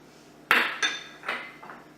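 Sage and poultry seasoning being stirred into olive oil in a bowl while preparing roast chicken, heard as three or four sharp clinks of utensil against the bowl, close and fairly quiet, with no talking.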